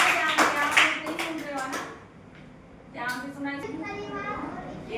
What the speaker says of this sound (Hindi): ताली हो जाएंगे।